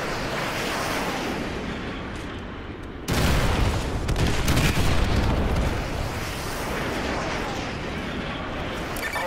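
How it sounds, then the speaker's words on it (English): Artillery strike in Call of Duty: Modern Warfare 2, a loud broad rumbling barrage that swells abruptly partway through and rolls on with sustained booming and crackle, heavy and continuous rather than distinct single blasts. "Fire mission received. Artillery inbound."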